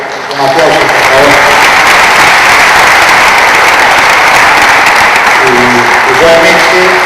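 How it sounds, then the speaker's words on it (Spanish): Sustained audience applause at an educators' conference, dense and loud from start to finish, with brief voices audible underneath the clapping. "Un aplauso, por favor."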